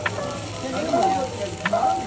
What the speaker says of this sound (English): They cut and cook the pork belly right in front of you.